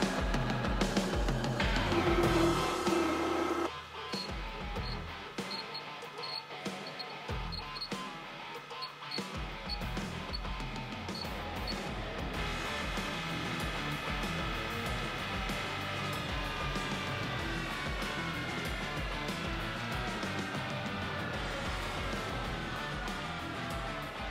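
A lathe refaces a titanium friction-weld workpiece, running at too high a speed, with a continuous loud whirring and grinding that starts with a few short bursts and then settles into a steady machining drone with bright high rings.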